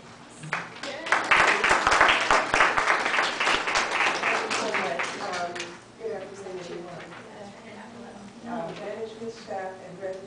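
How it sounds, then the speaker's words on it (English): Audience applause for a dance instructor at a residential community event, a loud burst of clapping that fades after a few seconds while voices and chatter carry on. "So let's give her a big round of applause."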